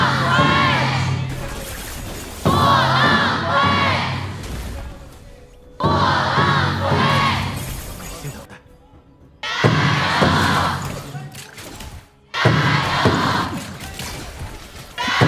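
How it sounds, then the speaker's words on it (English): A large esports arena crowd at a KPL grand finals knockout match roars and cheers in loud, sustained surges, with brief drops between swells. "Let's hear it from the crowd very soon."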